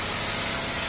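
Primer sprays from an aerosol in a short, steady hiss across the body panel of a 1938 SS Jaguar 3½ drophead under restoration.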